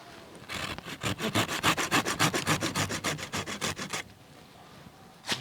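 A peach tree branch is sawn through to prepare a cleft graft: about twenty quick, steady, close-up rasping strokes in even rhythm, with no talk, before the cutting stops.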